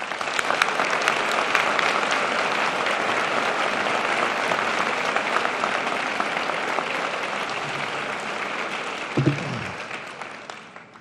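An audience at a medical school white coat ceremony applauds warmly and steadily to welcome a keynote speaker, a dense even clapping that fades out toward the end.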